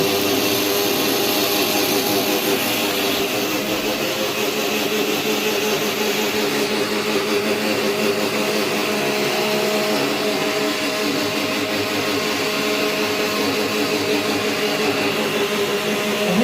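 An electric mixer grinder grinding masala runs loudly and steadily up close, a continuous whirring motor drone with no pauses and no talk.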